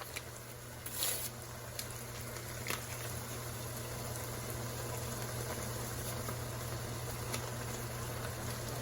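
A pot of corn and beans simmers quietly on the stove, a faint steady bubbling and pattering over a low hum, with a few soft clinks and no talking.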